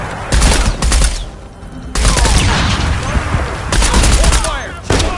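Rapid bursts of automatic gunfire rattle loud and close in a Shadow of the Tomb Raider firefight, several volleys separated by brief gaps, with shouted voices between them.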